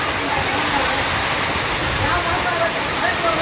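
Heavy rain pours down steadily in a village setting, a dense, continuous roar of falling water filling the scene at constant loudness from start to finish.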